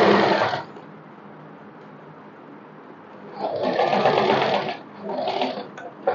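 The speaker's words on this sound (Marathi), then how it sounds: "जिथपर्यंत येते आहे ना तिथपर्यंत मी दाब शिलाई मारून घेईन।" A sewing machine stitches a co-ord set, running loud in bursts at the start and again near the end, with a softer steady hum between the runs.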